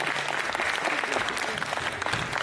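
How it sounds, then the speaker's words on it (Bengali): Sustained audience applause at a stage event honoring young child performers after a play, dense clapping filling the space steadily and alone with no voices over it. "আরেকবার হাততালি হোক।"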